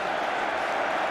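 Chelsea fans in a packed stadium at the 2007 FA Cup Final against Manchester United roar and applaud Didier Drogba's goal, a dense, continuous wash of crowd noise throughout the brief moment.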